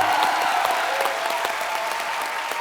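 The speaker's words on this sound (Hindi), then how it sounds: "सो एक बार सीआईडी की पूरी टीम के लिए जोरदार तालियां हो जाए।" A studio audience at a comedy talk show claps loudly and steadily for the CID team, a dense, even wash of applause throughout.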